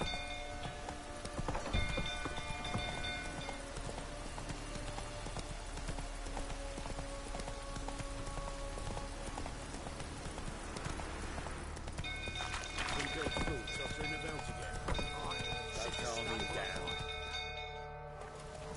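Roach, the horse from The Witcher 3 video game, clip-clops in a steady galloping rhythm that runs throughout, layered with game music and ambient noise and ending with a slowdown.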